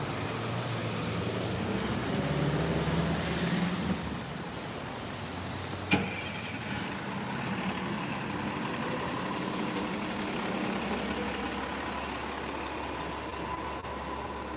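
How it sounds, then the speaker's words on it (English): An M14D Select city bus idles on a New York street with a steady low engine rumble amid surrounding traffic noise, with a few brief clicks and squeaks over the continuous drone. "Here's the M14D Select bus service."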